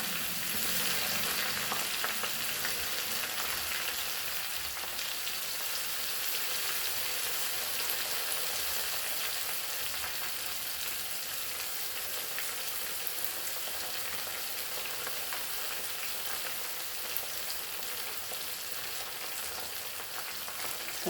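Garlic and chilies fry in hot oil for a dal tadka, a dense, even crackling sizzle that carries on steadily throughout without talk.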